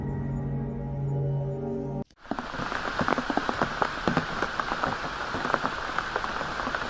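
Heavy night rain pours onto surfaces at a roadside shelter, a dense, continuous patter with close, distinct drops, cutting in abruptly after a brief steady tone.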